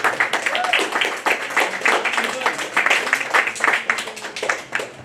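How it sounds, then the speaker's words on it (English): Seminar audience claps for a speaker at the close of a talk, a loud, dense patter of many hands with uneven swells that carries on for several seconds without fading out. "Can you give another round of applause, Mr. Kwok?"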